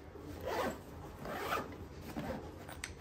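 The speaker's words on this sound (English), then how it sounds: "I'm gonna zip it up" A Nike One training tote bag, packed with a full water bottle and a laptop, being zipped shut: close rasping zipper pulls in a few strokes, no talk.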